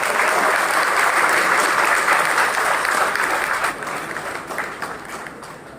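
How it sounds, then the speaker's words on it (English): A large audience at a Dimapur Meetei Council felicitation program applauds in a sustained, dense round of clapping that stays strong for nearly six seconds and thins a little toward the end. "Shall we all welcome her with a long round of applause?"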